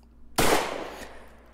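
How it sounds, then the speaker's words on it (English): A single Smith & Wesson gunshot sound effect for a game fires after a short silent gap, a sharp loud crack decaying over about half a second, with a faint secondary thump just after. "let's analyze that Smith & Wesson sound"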